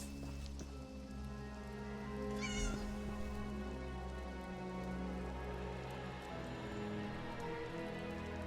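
A cat meows once in Elder Scrolls Online over a steady patter of in-game rain and ambient background sound, with no voices.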